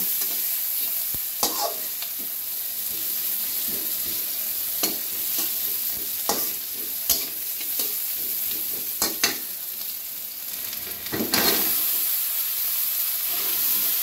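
Chopped onion and cumin seeds sizzle in the wok used for frying fish, a steady hiss broken by repeated sharp scrapes and clinks of stirring, close and fairly loud.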